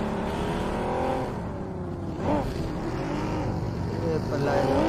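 A vehicle engine drones steadily in the mobile battle royale game BGMI, rising in pitch as it accelerates, with a continuous loud whine throughout while a player's voice talks over it.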